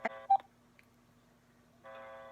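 Telephone dialing tones for a phone call: a few short keypad beeps at the start, then a quiet pause and a sustained ringing tone that begins near the end, heard close and clean without talk.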